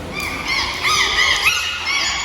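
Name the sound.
dolphin vocalizing at a dolphinarium show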